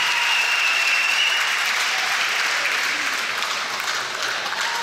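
An audience applauds at a senior bhangra competition at Bhangra Down Under 2015, a dense and even wash of clapping that holds steady and then eases slightly toward the end.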